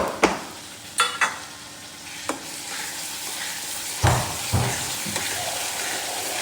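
Masala with finely chopped tomato being sautéed in oil in a pan for a restaurant-style dal, with a few sharp utensil stirs and scrapes over a low, steady sizzle.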